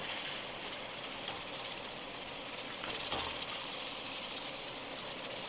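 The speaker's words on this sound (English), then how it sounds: "So the pressure cooker starts cooking there." A pressure cooker releases steam in a home kitchen while fish, dhal and rice are cooked, a steady broad hiss that swells slightly near the end, moderately loud and continuous with no talking.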